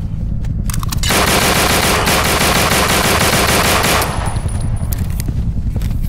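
Loud automatic gunfire bursts out in the zombie shooter game No More Room in Hell, a dense, rapid fusillade lasting about three seconds, framed by a few single shots before and after.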